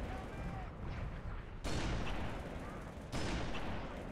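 Two sharp, loud sniper rifle shots in Halo 3, spaced about a second and a half apart, each a sudden full-band crack over a dense, busy game soundscape.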